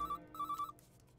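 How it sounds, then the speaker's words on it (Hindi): An incoming call sets a phone ringing with a bright electronic trill in two quick bursts, fairly soft and alone. "ऑफिस पहुंचने के थोड़ी ही देर बाद उसका फोन आया।"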